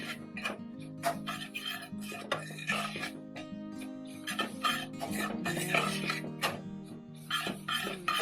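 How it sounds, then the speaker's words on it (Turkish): A spoon scrapes and clinks steadily in a pan while semolina halva with walnuts is stirred and roasted, a quiet, continuous tapping and scraping with no talk over it. "Biraz da böyle cevizle kavuracağım."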